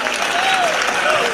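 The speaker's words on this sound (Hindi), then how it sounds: "ताली बजाइए एक बार," Audience applause at a Hindi comedy poetry gathering (hasya kavi sammelan), a dense, steady wash of clapping throughout with faint voices and a thin tone riding over it.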